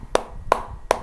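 Claps offered in tribute to journalist Ricardo Boechat after his death in a helicopter crash: three sharp, close, evenly spaced hand claps with quiet between them.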